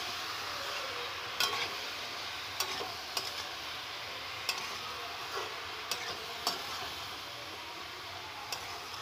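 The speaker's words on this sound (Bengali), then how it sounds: "ভালো করে নেড়ে চেড়ে আমি নেব।" Vegetables for spinach dal are stirred in a pan, with a soft background sizzle and a series of distinct spoon scrapes and taps against the pan, fairly quiet and without talk.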